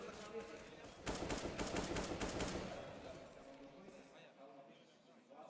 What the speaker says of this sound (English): Shots through on the AK at mid.